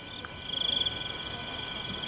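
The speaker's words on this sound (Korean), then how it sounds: "귀뚜라미 우는 소리, 풀벌레 우는 소리." Crickets and other insects chirp steadily in a high, shimmering trill at dusk in a Thai national park, one insect briefly louder up close against a constant background chorus.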